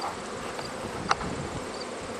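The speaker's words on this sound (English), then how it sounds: "They got a serious buzz going on." Steady droning buzz of many honeybees near a hive, continuous and fairly close, with a brief sharper sound in the middle.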